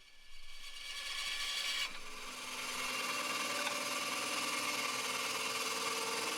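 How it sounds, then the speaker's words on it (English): Steady, loud buzzing grind of a blade slicing a quarter-inch piece off a deer antler, continuous and close for the whole stretch with a brief dip early on. "And then I'm going to slice off, say, about a 1/4 inch piece of antler."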